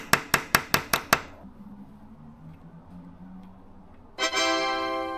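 Six sharp, evenly spaced hammer blows strike a stuck bolt on a used bike, each ringing briefly. A quiet pause follows, then a sustained bright metallic ring starts near the end.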